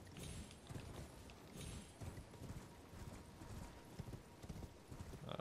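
A horse's hooves clip-clop steadily at a gallop in Elden Ring, the rhythmic footfalls fairly close and continuous over faint background game sound, with a possible brief neigh.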